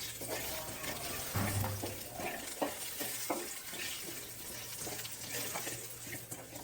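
Chopped onions sauté in a pan for a mushroom and potato gravy, stirred with a spoon that makes soft, irregular scraping clicks over a quiet, low sizzle.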